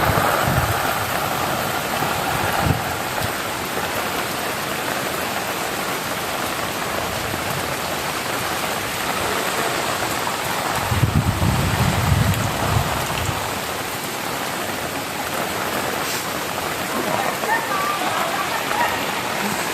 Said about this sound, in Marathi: पाऊस आला रे पाऊस आला